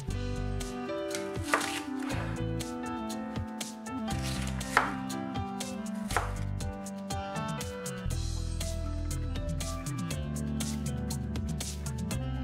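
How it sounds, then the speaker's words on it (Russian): A knife chops onion into large pieces on a board for chebureki filling, a steady run of sharp, close, distinct cutting strikes with an uneven rhythm. It carries on alone with no talking. "Лук нарезаем на крупные куски."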